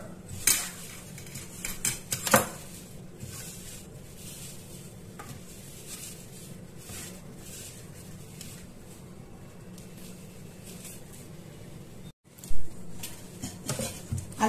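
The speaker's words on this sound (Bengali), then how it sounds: "ভালো করে মেখে নিয়েছি আলুটা ময়দা মাখার মতো" Boiled potato kneaded by hand with cornflour and salt in a bowl, heard as faint soft squishing and occasional clinks of the bowl and utensils against a low kitchen background.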